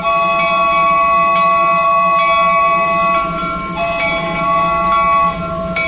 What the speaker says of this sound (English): The Disneyland Limited, now arriving from a trip around Walt Disney's Magic Kingdom.